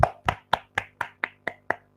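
A kindergarten class of children claps hands in a slow, even rhythm: eight crisp, separate claps about four per second, close and clear over a faint steady hum.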